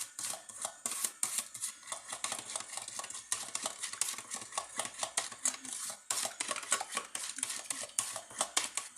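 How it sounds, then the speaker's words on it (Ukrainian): A spoon stirs a cleaning mixture with a tablespoon of oil in a bowl, clinking in quick, rhythmic strokes that stay close and clear with no talk. "Це все добренько так перемішуємо, щоб з'єдналася ця вся суміш."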